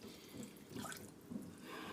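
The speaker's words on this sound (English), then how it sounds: "But that was a couple of cups of water there." A couple of cups of water poured into a soup pot for vegetable soup, a soft steady splashing stream running alone at low level for about two seconds.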